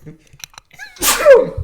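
A single sharp human sneeze bursts out loudly after a few quiet breaths and small mouth sounds, with a short voiced tail.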